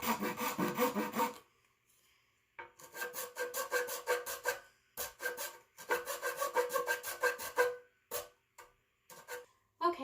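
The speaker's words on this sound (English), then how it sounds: "So now we're going to saw" Hand saw rasping through wood in steady back-and-forth strokes, coming in three bursts separated by short pauses, close and fairly loud.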